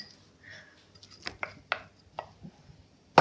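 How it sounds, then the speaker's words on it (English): Frozen raspberries being added to a chocolate pudding mixture, a few sharp clicks and light thuds as the berries drop into the bowl, with one louder clatter at the end, close and without talk. "I'm going to add 1 cup of frozen raspberries."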